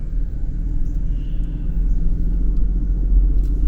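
Car driving through a small downtown street in an old upstate New York village, heard as a steady loud low engine and road rumble from inside the vehicle, with no talking.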